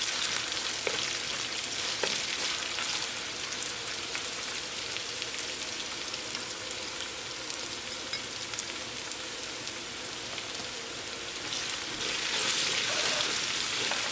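Onion, cumin, ginger and garlic frying in a pan for chicken biryani, a steady broadband sizzle throughout with occasional stirring clicks, no voices.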